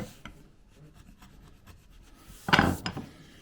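Sandpaper rubbing across a wooden ledged and braced door: quiet intermittent scuffing, then a short louder burst of rasping strokes near the end, close up with no voices.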